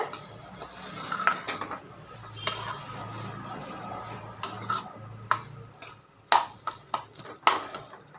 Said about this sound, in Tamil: அடுப்பை சிம்லேயே வச்சுட்டு இந்த மாதிரி நல்லா இதை மிக்ஸ் பண்ணிகிட்டே வாங்க